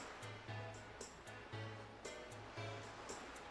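Soft ocean surf hisses steadily in The Legend of Zelda: The Wind Waker, quiet and continuous beneath a gentle, repeating musical pulse.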